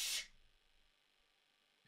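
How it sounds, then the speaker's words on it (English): A single short, sharp sneeze bursts out at the very start in a game playthrough, then falls away to near silence. "Hold on, I'm waiting for sneezes."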